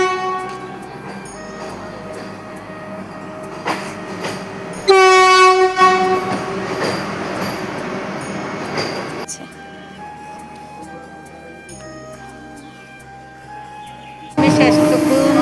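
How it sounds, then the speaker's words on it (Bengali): A Vande Bharat Express arriving at Mourigram station: loud horn blasts near the middle and again at the end, over a rolling rumble and clattering wheels that fade between the blasts. "দেখো এই দেখো বন্দে ভারত আসছে"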